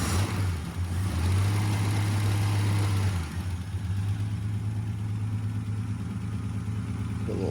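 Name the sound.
car engine idling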